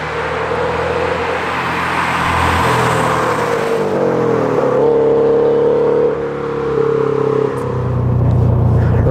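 A loud tuned 2022 Subaru BRZ engine with aftermarket intake revs and idles with a rough, burbling exhaust, a few sharp pops breaking through as the revs drop.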